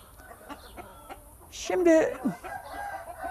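An Istanbul breed rooster crows once partway through, a short harsh call heard close by, with someone talking briefly before and around it.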